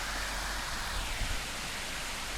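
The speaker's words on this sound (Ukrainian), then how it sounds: "Так, продовження фонтанного шоу." Water from a fountain show in Bad Kissingen, Bavaria, Germany, a steady broad rushing and splashing wash that fills the whole stretch evenly, fairly close and continuous with no talk.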